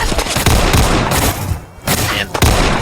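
Powerful IMI .50AE Desert Eagle pistol shots in the video game Fallout 4, loud and close, fired in a quick series of heavy booming reports with brief gaps between them.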